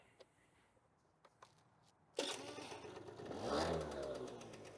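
A few faint clicks, then a small Roughhouse 50 scooter engine abruptly starts and revs up, whirring loudly nearby in a garage before settling into a steady running drone.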